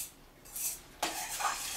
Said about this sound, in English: stir it up good, nice and mixed